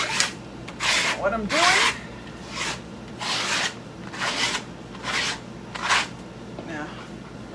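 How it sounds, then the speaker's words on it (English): Steel trowel scraping metallic plaster across a textured wall, backfilling the texture, in a steady series of about seven rasping strokes with brief pauses between; a voice talks briefly over the scraping. "I am backfilling that texture with my metallic plaster, and I'm scraping it"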